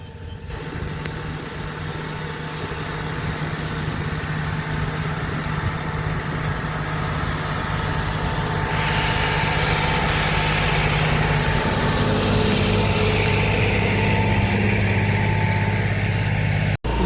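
A farm tractor idles nearby, a steady low engine rumble with a faint hum that stays even and grows slightly louder toward the end before cutting off abruptly.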